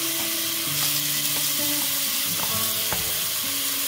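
Ginger, garlic, green chili and coriander sizzle and fry in a hot pan, with clinks and scrapes from a stirring spoon breaking up the steady crackle, and no talk.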